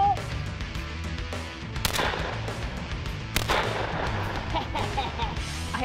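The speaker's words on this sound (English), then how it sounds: "I absolutely love shooting this Browning Maxxis 12 gauge." Browning Maxus 12 gauge shotgun fired at sporting clays outdoors, with a few sharp, loud blasts spaced apart over a quiet, faint background.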